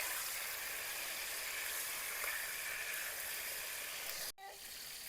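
Bitter gourd slices sizzle steadily in hot oil as they fry until reddish, a loud, even crackling hiss that cuts off briefly near the end before resuming.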